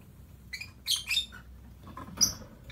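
Lovebirds, violin-type (biola) breeding pair, in a breeding cage give a few short, sharp chirps and tweets over quiet background, scattered across a couple of seconds.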